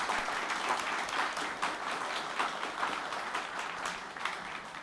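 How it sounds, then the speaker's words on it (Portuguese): Audience applause for municipal council pre-candidates at a mayoral campaign launch in São José dos Campos, Brazil, a continuous dense clapping that holds at a steady moderate level throughout. "Uma salva de palmas para a nossa vereança."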